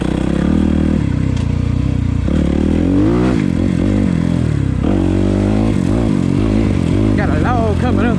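A Suzuki enduro dirt bike rides a rough trail, its engine loud and close, revving up and down constantly amid clatter over the terrain, with a voice talking throughout.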